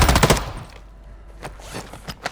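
Gunfire from Call of Duty MW2 DMZ: a rapid burst of loud automatic shots at the start, then a quieter stretch with a few scattered single cracks and shots near the end.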